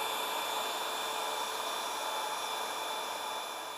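A hot air welding gun heats a seam on hygienic PVC wall cladding sheets, producing a steady, close, hissing blower drone with a constant high whine and no talk.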